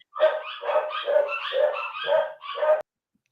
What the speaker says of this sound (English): I love that the dog just went completely wonkers in the background